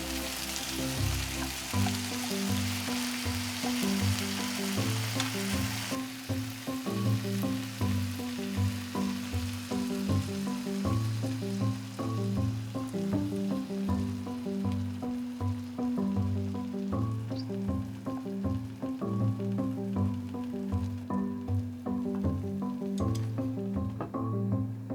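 Tomato and egg pizza fries in a single pan with a steady, soft sizzle that runs throughout, partly under background music.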